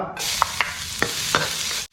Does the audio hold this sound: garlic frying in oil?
yes